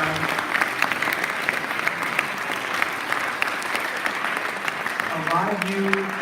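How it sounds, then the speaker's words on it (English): Audience applause for the parents of contestants at a Poetry Out Loud recitation event, steady dense clapping from a crowd filling the room throughout, with a few faint voices murmuring near the end. "Let's give a round of applause for the parents that supported Poetry Out Loud."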